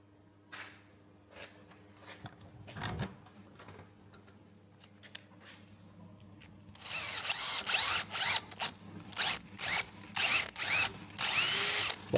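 A power drill bores into metal during work on a Mk4 Escort 2.0 TFSI engine conversion, starting with faint taps and clicks and then running in loud, repeated bursts of drilling close by.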